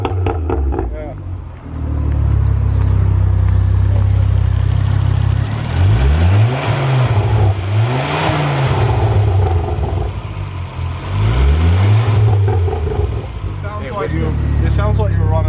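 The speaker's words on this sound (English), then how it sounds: "Sounds throaty, doesn't it? Yeah, it's a lot deeper. You definitely hear the turbo spinning." Ford Focus ST fitted with a 3-inch downpipe, the engine revved repeatedly with rising and falling pulls and a turbo spooling, loud and close, with people talking over it at points.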